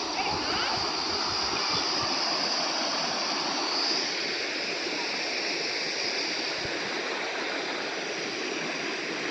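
River water flows in a steady, broad rushing roar that stays constant and fairly loud, with some faint voices beneath it.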